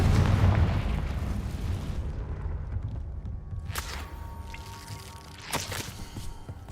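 A Confringo fire spell explodes in Hogwarts Legacy with a loud booming blast at the start that decays into rumble, followed by a few fainter crackling bursts.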